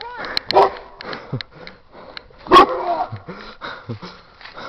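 A dog barks in a series of short, loud, close yelps and woofs, with excited human voices in between.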